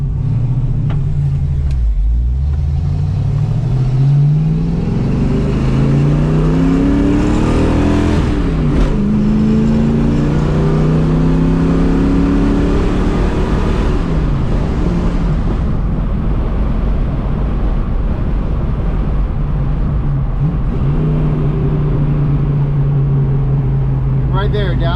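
A 1968 Ford Mustang fitted with headers and a full exhaust drives on a main road, its loud V8 rumble rising and falling through several gear changes, close and continuous throughout.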